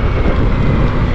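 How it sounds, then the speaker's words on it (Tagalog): Strong, cold midday wind buffets the microphone outdoors near a tomato planting plot, a steady low roaring rumble that fills the short stretch alone. "malakas yung hangin tsaka malamig"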